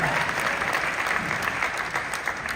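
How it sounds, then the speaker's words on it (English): A large audience at a live haunted-attraction announcement event applauds steadily, a dense wash of clapping that holds for several seconds with faint voices mixed in. "you're all applauding for the event"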